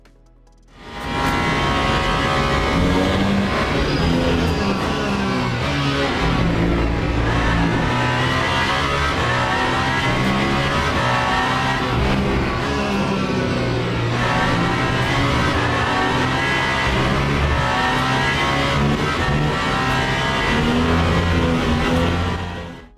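A Le Mans Ultimate hypercar engine at Lusail circuit drones loudly and continuously, revving up through the gears with steady harmonic whine and brief shift dips, no talk over it.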